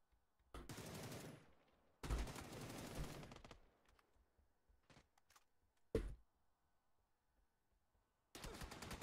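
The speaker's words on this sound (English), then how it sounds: "Wow, the shots from that guy." Bursts of rapid automatic gunfire in the video game PUBG, loud and close, separated by quiet gaps with a few isolated single shots between the longer volleys.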